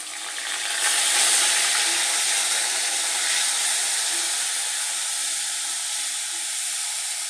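Onion paste with ginger and garlic frying in oil, a loud continuous hissing sizzle that swells early and then holds steady, with no talking.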